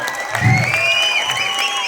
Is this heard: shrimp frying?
no